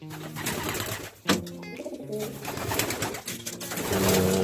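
A racing pigeon hen coos in repeated low, tonal phrases, close and fairly loud, with faint background sounds around her and no speech.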